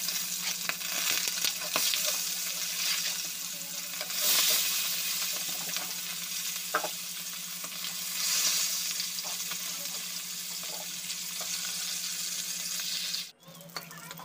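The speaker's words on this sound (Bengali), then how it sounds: "একটা কড়াইয়ের মধ্যে সর্ষের তেল দিয়ে মাছগুলোকে খুব ভালো করে ভেজে" Bata fish fry in mustard oil in a wok, giving a steady, close, even sizzle that hisses continuously with occasional faint pops and a brief dip near the end.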